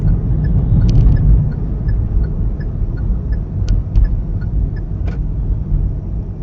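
A car drives along a rural village road, leaving the highway for back lanes; steady low engine and road rumble throughout, with faint high ticks and brief clicks over it, no talking.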